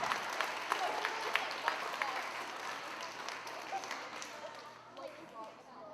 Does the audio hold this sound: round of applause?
yes